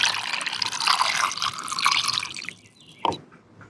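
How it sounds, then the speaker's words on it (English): Water pours into a rock tumbler barrel in a steady splashing trickle for about two and a half seconds, then stops, followed by a single clunk and quiet handling noise, close by with no talking. "Let's go ahead and get my water added in."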